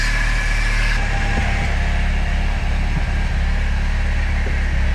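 Turbocharged Fiat Spider engine idling with its exhaust disconnected, a loud, steady low rumble and hum close by, with faint clicks and knocks over the drone.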